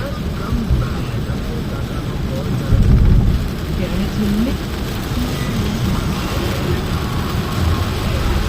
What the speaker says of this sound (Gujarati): એનું કારણ છે વરસાદ. એટલો વરસાદ છે.